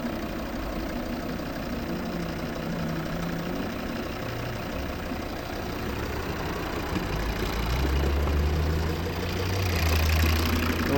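A 2012 Volvo V50 2.0 D3 five-cylinder diesel engine idles steadily nearby with a low, even rumble and faint knocking, rising slightly toward the end.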